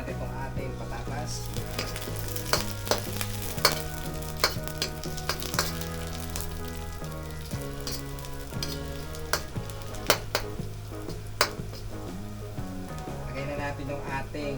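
Potatoes sizzle and fry steadily in a pan while sauteed squid is prepared, with a continuous crackling hiss, scattered sharp pops, and background music throughout.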